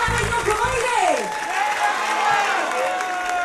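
Theatre audience at a live comedy show in Saint-Gilles applauding steadily throughout, a dense wash of clapping with a voice speaking over it.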